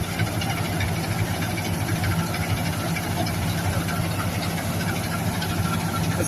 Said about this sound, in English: That's the knives going across,